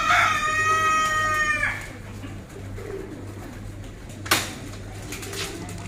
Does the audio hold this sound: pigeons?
yes